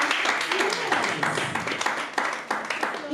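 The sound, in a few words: audience applause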